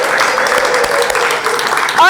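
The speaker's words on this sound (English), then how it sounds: "How much more applause does he need?" Audience applause for a DJ at a live show, loud continuous clapping with scattered cheers, briefly surging louder at the end.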